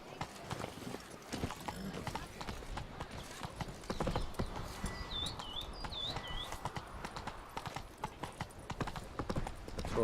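Roach the horse gallops in The Witcher 3: Blood and Wine, quick rhythmic hoofbeats pounding up close, while a few bird chirps flicker in the background.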